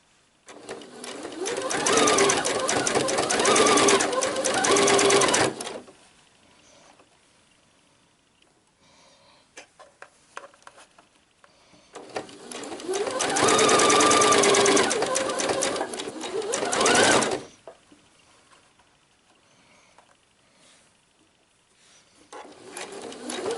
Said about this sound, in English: I'll finish sewing this bit by bit and I'll show you how it looks.